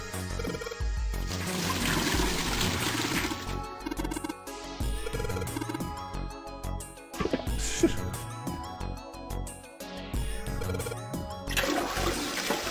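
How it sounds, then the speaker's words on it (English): A toilet flushes in the video game 999, a loud rushing, gurgling swirl of water that drains and trickles away, set against game music. "Flush the hot water from the bucket"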